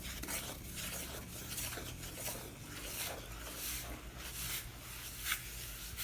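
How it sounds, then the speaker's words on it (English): A spoon works salt, flour and water into a dough in a bowl, giving repeated scraping and rubbing strokes that come close and fairly quiet, with a few soft knocks. "So pour that in and start stirring it"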